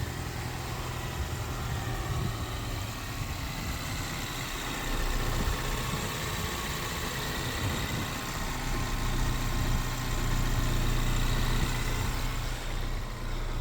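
Ford Mustang engine idles steadily after an exhaust leak repair and pipe repositioning, a close, continuous low rumble that swells slightly in the middle, with no talking.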